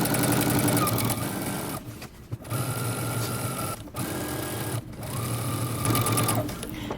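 Sewing machine stitching a seam on jeans, running in fast, steady bursts with short pauses between them, loud and close, with faint background noise and no talking.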